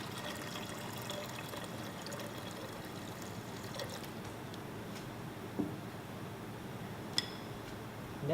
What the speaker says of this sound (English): Also, we add some water to it as well.